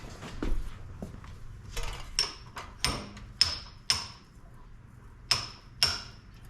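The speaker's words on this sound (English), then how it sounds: "I'm gonna clamp this in the vise and fold that over" Sheet metal clamped in a vise is folded over during rust repair on a 1978 Ford F150 wheel well, with several sharp metallic hammer strikes ringing out at close range at uneven intervals.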